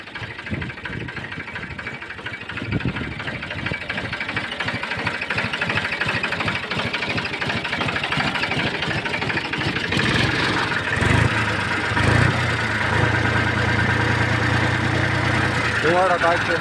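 An old 50 horsepower four-wheel-drive New Holland 4710 tractor engine idles nearby in a steady, knocking diesel rumble that shifts in pitch partway through, with a few louder bumps and brief tonal sounds toward the end.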